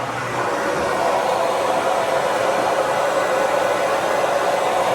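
A hair dryer with a diffuser attachment roars steadily and loudly at close range, an unbroken airy whoosh with no voices.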